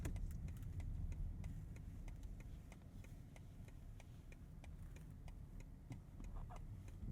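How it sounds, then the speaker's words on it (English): Steady, even ticking of a 2023 BMW 760i's turn signal repeats about twice a second under a low interior hum, with no talking. "Turn signal sound."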